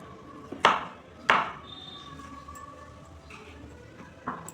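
A knife chops tomatoes and onions on a board for ghugni, giving a few sharp, separate cuts spaced about a second apart, with quiet kitchen sounds in the gaps.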